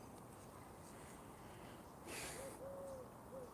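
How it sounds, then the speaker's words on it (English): An owl hoots several times, soft and somewhat distant, over a steady background hiss. "Listen to this owl."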